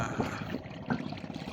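A sea-going fishing boat passes on the Padma river, its engine a low, steady rumble close by, mixed with lapping and trickling water throughout.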